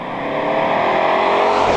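A 2018 Ford Mustang GT with an active exhaust accelerates hard, its engine note close and loud, building steadily with a deep rumbling roar and no voices over it.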